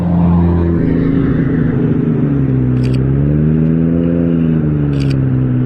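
A Koenigsegg supercar drives by with a loud, close engine drone whose pitch rises and falls as it passes, with no voices.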